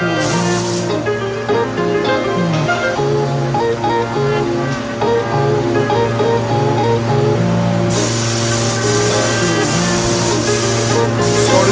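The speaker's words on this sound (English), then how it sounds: "now time, let's chuck some lacquer on it" Spray gun applying lacquer to a rebuilt salvage Ford Focus ST, a steady loud hiss of spraying air that continues throughout, growing brighter and stronger near the end, with a low hum beneath and no talking.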